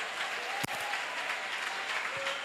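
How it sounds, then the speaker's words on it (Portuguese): Church congregation applause, a steady dense wash of many hands clapping throughout, with one sharp knock near the beginning and faint voices underneath. "Pode dar aplausos para Jesus."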